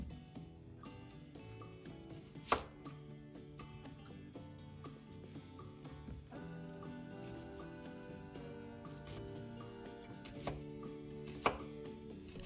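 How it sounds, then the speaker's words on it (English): A knife dicing half a white onion on a cutting board at home, a quick run of soft, irregular chops with a few sharper knocks, fairly quiet and close, no talking. "we're going to start off by dicing half of a white onion"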